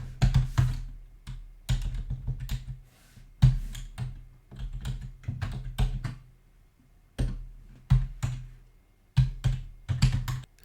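Close, clear tapping on a computer keyboard as a spreadsheet formula is entered, in short irregular bursts of keystrokes separated by brief pauses, with no talking.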